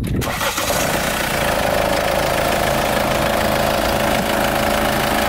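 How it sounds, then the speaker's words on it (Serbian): A motorcycle engine catches at once and settles into a steady, smooth idle, a loud close-up mechanical hum with a faint plastic rattle running through it. "hajde da vidimo kako se čuje ovaj motor, da vidite da radi, znači da hoće da upali"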